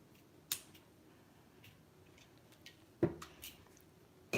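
A pair of sharp, faint snips from a cutter going through thin craft wire for earrings, spaced a few seconds apart in a quiet room.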